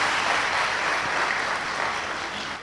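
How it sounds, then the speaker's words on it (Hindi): Steady applause from an audience clapping for a Sikh man who raised his hand at a spiritual talk, a dense continuous wash of many hands, loud and even throughout. "इसकी ताली बहुत खूब बजाओ अच्छी तरह से"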